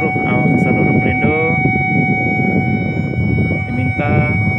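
Port sirens wail steadily and loudly, blown together at the inauguration of the merged Pelindo harbor company. The long sustained tones carry throughout, with faint voices and horn-like bursts layered on top.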